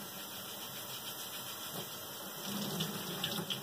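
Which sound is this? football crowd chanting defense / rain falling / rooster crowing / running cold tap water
running cold tap water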